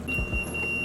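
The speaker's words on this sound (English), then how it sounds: "Let me turn off the alarm." Kitchen timer alarm going off while molasses quick bread bakes, a steady electronic beep held as a continuous high tone through the short moment with a low kitchen rumble beneath.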